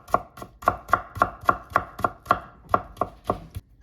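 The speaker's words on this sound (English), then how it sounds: "Dicing the onion, and then we're going, dicing the garlic" A knife dices onion on a cutting board for oven-baked Jamaican-style curry chicken, about fourteen crisp, evenly spaced chops close by, with no talking.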